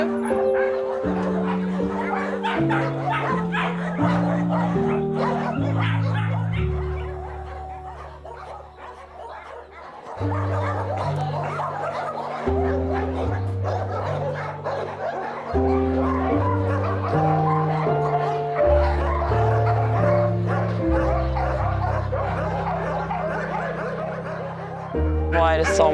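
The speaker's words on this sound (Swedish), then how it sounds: "det är så otroligt många hundar här." Many dogs at a shelter bark, yip and whimper continuously and overlapping, a dense nearby chorus with a short lull midway, while people talk and chuckle among them.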